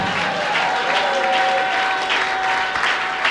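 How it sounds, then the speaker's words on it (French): A church congregation claps loudly and continuously during a prophetic worship service, dense steady applause filling the room from start to finish with a faint voice underneath. "Acclame très fort pour toi-même."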